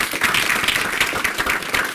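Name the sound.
audience clapping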